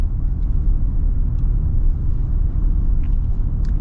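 A factory-lifted 2024 Toyota Tundra V6 drones with a low, steady engine and road rumble heard from inside the cab while driving, loud and even with no distinct revving.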